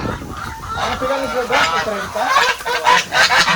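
Loud honking geese mixed with clucking heritage chickens on a provincial poultry farm, a dense, close flock calling over one another.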